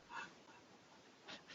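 A dog gives two short yips or whimpers, a second apart, faint and close over low room noise.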